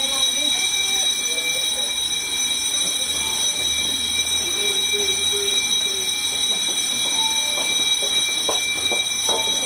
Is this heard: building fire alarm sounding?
yes